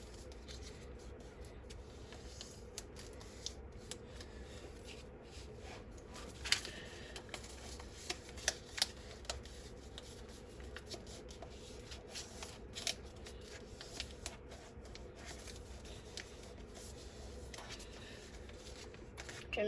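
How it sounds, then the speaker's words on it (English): Sheets of paper are creased and folded into a paper airplane: soft crinkles and sharp sliding snaps come in scattered bursts over quiet room tone, with occasional low background noise. "Now take this edge and fold it into the center."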